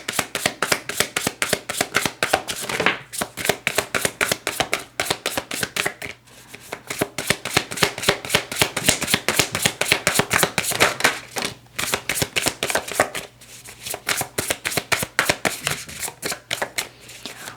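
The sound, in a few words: shuffling tarot cards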